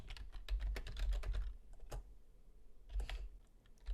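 Bursts of quick keystrokes on a computer keyboard while code for a retro PyGame Space Invaders game is typed, a busy flurry, a pause with a single tap, then another short burst, close and clear with no talk.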